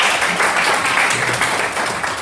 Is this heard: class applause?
yes